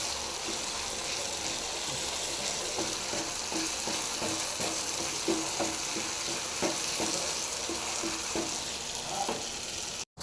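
Green tamarind pickle mixture stirred and sizzling in oil in a pan, a steady crackling fry with soft scraping strokes of a spoon throughout, moderately close and without talk.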